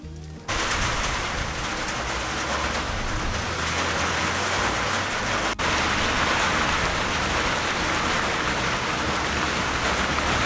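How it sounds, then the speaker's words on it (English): Heavy rain pouring during a sudden thunderstorm, a dense, steady roar that starts abruptly and holds loud and continuous throughout. "it suddenly thundered and it started raining just now"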